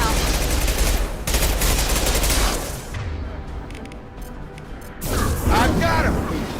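Sci-fi gunfire in the Mass Effect 2 video game: loud rapid bursts of automatic weapon fire, a lull of quieter battle noise midway, then another intense volley.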